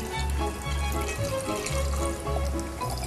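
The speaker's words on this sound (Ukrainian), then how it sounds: "І заливаємо холодною водою" Cold water poured over salted greenfinch mushrooms in a kitchen, a continuous close splashing, gurgling stream under a steady low hum, with no speech.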